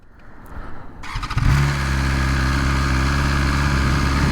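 A 2020 BMW S1000RR sport motorcycle fires up after a brief starter whir, then settles into a loud, steady, close idle with a rich engine drone.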